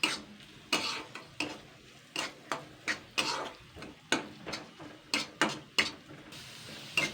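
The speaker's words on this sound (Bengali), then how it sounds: "এটাকে আমি জাস্ট একটু হালকা করে নাড়াচাড়া করে নেবো কিন্তু। হালকা করে সুন্দর করে ভেজে নেবো ওটাকে।" Mung dal is lightly stirred and fried in a pan, with a spatula scraping and clinking against the metal in a steady run of about a dozen brisk strokes, close and fairly quiet, with no talking.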